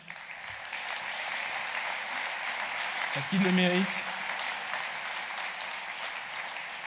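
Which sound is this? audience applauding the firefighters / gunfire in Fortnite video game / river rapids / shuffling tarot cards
audience applauding the firefighters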